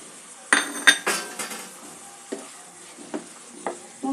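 Spice masala of coriander and cumin powder with onions, fried in a pan for a katla fish rezala, heard as a soft sizzle broken by several sharp clinks and scrapes of a spoon stirring against the metal.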